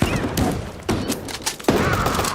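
Sharp gunshots from a competitive shooter game, a sniper round and other weapon fire, crack out in three distinct bursts about a second apart, each with a short ringing tail, loud and close over dense game noise.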